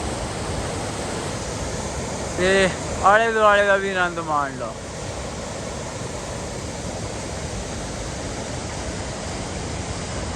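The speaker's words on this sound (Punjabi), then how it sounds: "ਮਾਣੋ ਆਨੰਦ ਵਗਦੀ ਹੋਈ ਚੰਦਰਾ ਰਿਵਰ ਚੰਦਰਾ ਨਦੀ" Morning flow of the Chandra river in Lahaul-Spiti: a steady broadband rush of water runs unbroken throughout, with someone briefly speaking over it near the middle.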